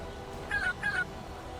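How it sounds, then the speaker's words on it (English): A cat meow sound effect from a plane build in the video game Trailmakers plays twice in quick succession, two short tonal mews over steady engine hum, with no talking. "And we've got the meow sound effect,"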